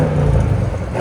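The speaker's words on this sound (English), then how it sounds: "It shows its true colors when you rev it." 2021 Audi S8 4.0L twin-turbo V8 with resonator delete, revved in one quick, loud, close burst of deep engine rumble.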